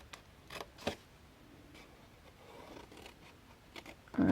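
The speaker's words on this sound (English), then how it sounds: "I'm going to take my scissors, and when you cut this off, make sure that you don't go all the way to the chipboard" Scissors snipping cardstock squares off a 6 x 6 mini album near the chipboard, a few crisp close cuts spaced irregularly, ending in a louder clatter.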